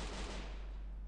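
Rapid, continuous bursts of M60 machine gun fire in the video game Free Fire, dense and loud and steady across the whole moment with no pauses.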